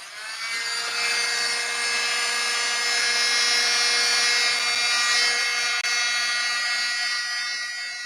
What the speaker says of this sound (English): I think I'm going to blow dry this, what I did